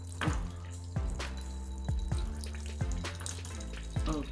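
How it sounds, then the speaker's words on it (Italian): Coffee poured from an oversized giant novelty coffee pot, a trickling stream broken by repeated sharp drips and splashes, close and fairly quiet, with a brief exclamation from a voice. "aggiungo un po' di caffè"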